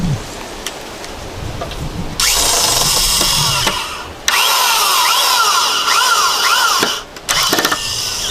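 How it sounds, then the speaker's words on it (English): A power drill drives screws into the wood of a vintage-style sawbuck, with loud, close whining runs of several seconds each, broken by brief pauses and a pitch that shifts as each screw bites and seats. "Put some screws in and put it together."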